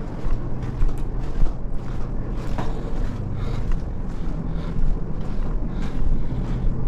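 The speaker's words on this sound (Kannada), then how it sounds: "ಇಲ್ಲಿ ಆಕ್ಸಿಜನ್ ಬರ್ತಾ ಇದೆ, ಗಾಳಿ" Steady rushing airflow with a deep low rumble from a vent inside Belum Caves, India, continuous and fairly loud, no voices.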